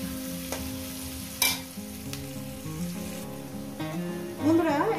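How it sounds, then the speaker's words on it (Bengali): Sliced onions salted and frying in a pan crackle with a steady sizzle while a spoon stirs them in occasional scraping strokes, with soft background music underneath. "3 মিনিট ধরে ভেজে নেব।"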